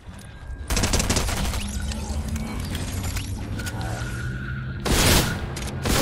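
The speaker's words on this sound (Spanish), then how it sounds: "¡Me han disparado!" Gunfire erupts in a Fortnite squad match on PS5, a dense burst of rapid shots that runs for several seconds, then a second loud volley near the end, close and harsh.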